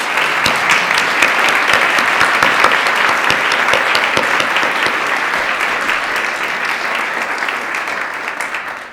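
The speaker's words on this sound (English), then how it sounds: "Let's give a round of applause to our 3 judges." Loud, sustained applause from an oratorical contest audience, dense rapid clapping that holds steady for several seconds before tapering slightly at the end.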